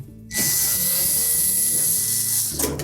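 A power driver whirs steadily for a couple of seconds, removing screws from the control panel housing on a Samsung dryer cabinet, loud and close with a bright, high motor whine.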